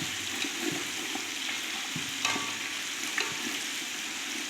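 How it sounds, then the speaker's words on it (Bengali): Chicken sizzles and spits steadily in hot oil in a pan for an Arabic maqluba-style dish, with the odd louder pop and stir. It is continuous and close, with no voices. "আমার মুরগি ভাজা হয়ে গিয়েছে"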